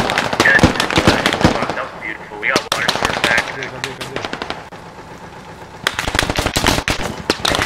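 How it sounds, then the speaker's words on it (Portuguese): Rapid bursts of video game gunfire from teammates firing nearby, loud and dense with sharp repeated cracks, mixed with excited voices talking over the shooting. "os caras tá atirando em nós, no nosso time."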